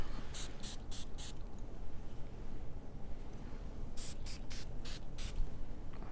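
Two bursts of Guerlain perfume spray: a quick run of four short hissing puffs, a pause with room noise, then five more close, crisp spritzes.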